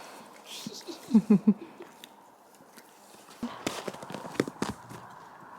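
A pony's hooves walking on frosty ground, a brief cluster of soft hoof steps up close followed by quieter shuffling and patter, with faint background voices.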